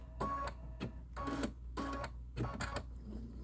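A sewing machine stitches quilt fabric for star blocks in short mechanical whirring bursts separated by brief pauses, close and moderately quiet, with no speech.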